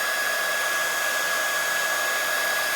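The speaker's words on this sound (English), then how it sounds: "quickly dry it with my heat tool" Heat tool blowing steadily while drying ink on craft paper, a loud continuous airy whoosh with a constant whine, close and unchanging throughout, no voices.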